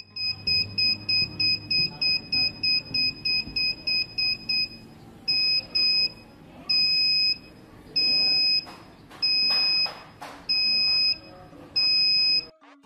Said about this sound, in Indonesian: nada buzzernya berbeda, dimana yang bahaya itu bunyinya lebih cepat dibandingkan yang hati-hati